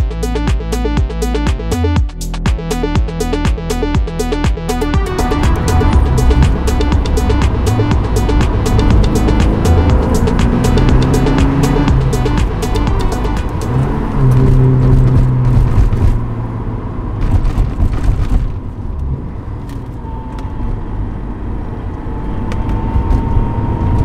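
A Porsche 944 Turbo out on a drive, its engine droning steadily and loudly throughout with shifting tones as it accelerates and changes gear, plus road and wind noise; no talking.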